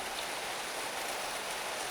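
Steady, dense hiss of rain falling continuously, even and unbroken, with no voices or other sounds.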